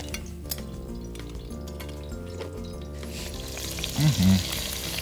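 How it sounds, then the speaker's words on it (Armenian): Whole chicken drumsticks being fried in vegetable oil in a pan, with a steady close sizzle that swells louder toward the end as more pieces go in, along with faint stirring and utensil sounds. "Լցնում ենք կացայի մեջ բուսայուղը ու ըստ հերթականությամբ ավելացնում ենք ամբողջական հավի բտիկները։"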